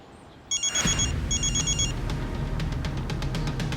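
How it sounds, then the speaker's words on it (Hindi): A telephone bell rings in two short bursts over a rumbling background of low noise and scattered clatter. "एक मिनट, फोन आ रहा है।"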